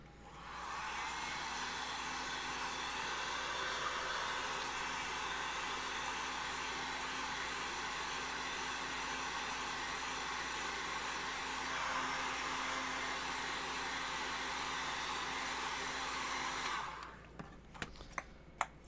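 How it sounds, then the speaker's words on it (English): A heat gun blows hot air onto foam while shaping a cosplay gauntlet, making a steady loud whooshing whine that runs without a break for about seventeen seconds and then stops, followed by a few faint handling clicks. "we're going to go ahead and heat the foam up and push this guy in there and let it cool"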